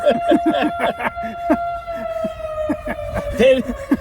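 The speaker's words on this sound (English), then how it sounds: "Siren goes off. There's sirens going around all of it." A steady siren tone holds throughout, sounding at moderate distance beneath people talking over it, at a Spartan Race obstacle event in New Jersey.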